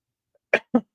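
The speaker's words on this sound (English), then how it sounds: "And there goes a cough." A person with asthma gives two quick, close coughs in a quiet room, each a short burst with a brief pause between.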